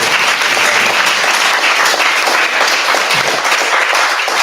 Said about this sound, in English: Can we get one more round of applause for Raghunath?